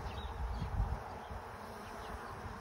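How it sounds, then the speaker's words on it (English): A dense, steady drone of many honey bees buzzing around an open hive during an inspection, continuous and fairly loud, with no voices. "Blow the bees out of the way"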